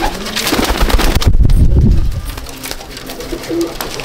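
Golden pigeons coo in low, repeated murmurs close by, with rustling and handling noise among several birds.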